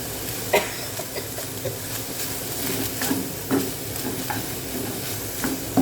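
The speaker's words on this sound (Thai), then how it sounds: "พี่สิริจะเอาหมูกับพี่แกงมาผัด ไม่ต้องใช้น้ำมันเนาะ" Pork and curry paste stir-fried in a dry pan with no oil, a steady sizzle broken by repeated scraping stirs at a near, even level, with no talk.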